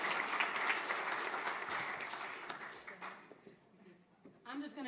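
Audience applause at a golf classic and summer party fundraiser, honoring someone and her staff: dense clapping from a crowd that gradually thins and fades, with a voice starting to speak near the end.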